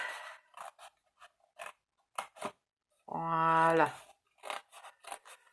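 Scissors snip through a scrapbooking box in a single close, rasping cut lasting under a second, set between short bursts of French speech.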